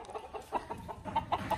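Roosters being prepared for fighting cluck in short, scattered bursts on a farm, fairly close and moderately loud, with no talking.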